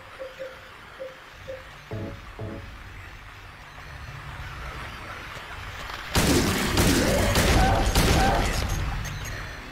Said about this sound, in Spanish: Pegar unos balazos porque estos atacan de lejos